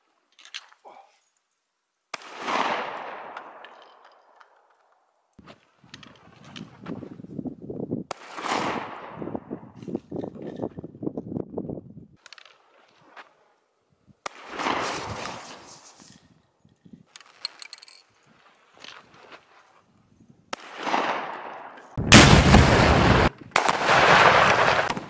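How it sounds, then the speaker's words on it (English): Shotgun blasts ring out during an outdoor skeet shooting session in Texas. The loud reports are spread apart, each with a long echoing tail, and some rustling and handling noise falls between them. Harsh, distorted bursts come near the end. "Texas skeet shooting."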